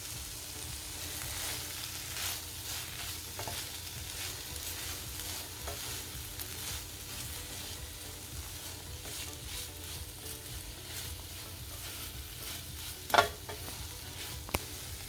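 Chopped bok choy stir-fried with bulgur in a pan crackles in a steady, soft sizzle, with occasional spatula scrapes and one sharp clink of utensil against pan near the end, no voices.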